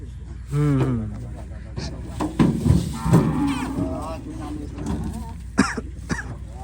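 Newly arrived cows at a cattle farm moo loudly and close by, one long low call followed by several more, with voices and coughing in the background.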